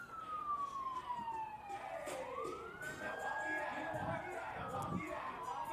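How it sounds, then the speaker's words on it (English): Fire department sirens wail along a busy street beside a stadium, the rising and falling tones sweeping past at a moderate distance over a murmur of crowd and faint voices. "As you can probably hear the sirens in the background."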